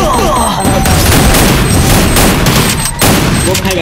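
Explosions and gunfire in a mobile battle-royale tournament match, loud overlapping blasts and crackling shots filling the clip almost continuously, with a brief dip near the end.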